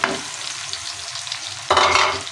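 Onions frying dark brown in oil for chana dal, a loud, close crackling sizzle with stirring scrapes that swells sharply near the end, with no talking.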